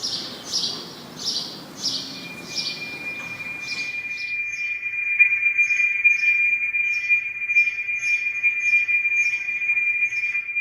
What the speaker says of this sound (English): The sparrows have their own sound, and that sound is being brought together and combined with the sound of the brass bell